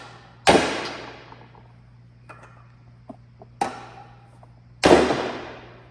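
A hammer strikes part of a Nissan 350z cylinder head in a workshop, three sharp metallic blows with ringing decay and a few faint taps between them, close up over a low steady hum.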